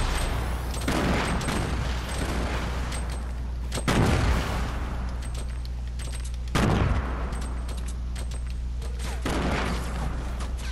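Repeated grenade blasts in the Fortnite battle royale game, several heavy booms at intervals over a steady background of game noise, with no talk.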